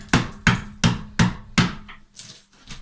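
A hammer strikes a chisel to break tiles off a wall, giving five evenly spaced sharp knocks followed by a couple of lighter taps. The blows are close and loud, with no speech.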